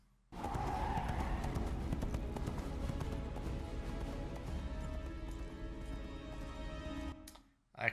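Rapid, continuous hoofbeats of a galloping horse in an animated series, loud and close, running for several seconds before cutting off abruptly.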